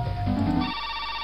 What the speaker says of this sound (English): Oh, it was nothing. Just the phone.